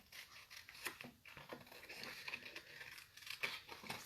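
Scissors snip through paper to cut out a picture in a craft session, with quick irregular snips and light paper rustling, close and soft.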